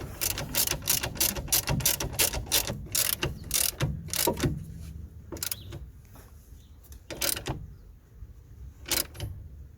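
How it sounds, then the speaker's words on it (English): A ratchet tightens the top nut of a rear anti-roll bar drop link on a Land Rover Freelander, giving quick bursts of close, loud clicking that become sparser, slower pulls near the end. "for the top one we're going to use a ratchet"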